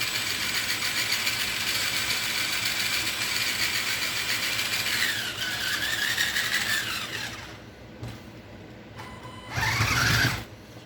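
An Amax Rock Force RC rock crawler's electric motor whines with geared mechanical buzzing, close and steady, its pitch sweeping up and down before dropping away, then a brief loud burst near the end.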